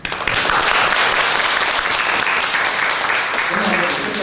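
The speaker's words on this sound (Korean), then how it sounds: "박수 한번 해주세요" Church congregation applauding to welcome a new member, a steady dense wash of clapping that runs the whole time and fades toward the end as a voice begins.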